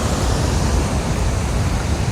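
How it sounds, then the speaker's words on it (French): Steady, loud broadband rush of a waterfall at Krka National Park in Croatia, a continuous roar of falling water heard close by with no voices. "là on a la cascade"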